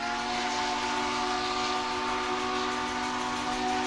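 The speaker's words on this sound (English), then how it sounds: "thanks to the sounds of a steam engine's whistle" A steam locomotive whistle on the Great Smoky Mountains Railway blows in one long, steady, loud tone with a hissing edge, continuing without a break.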